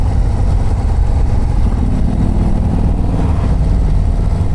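A 2024 Harley-Davidson CVO ST motorcycle with a 117 engine and stage 2 upgrade, a loud, steady, close engine rumble running throughout with no talk.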